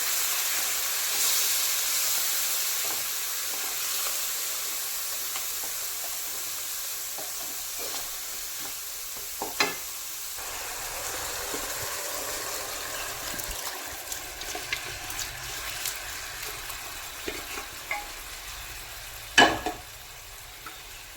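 Beef varattu simmering and reducing in a pan, a steady soft sizzle and hiss of bubbling liquid with occasional sharper clicks and a brief stir near the end, no voices.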